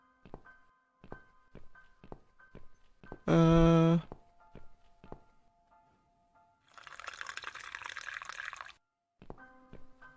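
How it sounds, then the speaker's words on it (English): Tap water runs in a steady two-second hiss in the video game The Cat Lady, set among sparse, ringing musical notes and a short loud tonal burst, with no one speaking. "I hear the water running."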